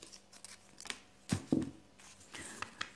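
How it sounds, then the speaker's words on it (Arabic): Scissors cutting fabric while tailoring a half-circle skirt, giving a few close, crisp snips and rustles of cloth spread over a few seconds, with no talk. "أنا هكذا راح نقص القماش"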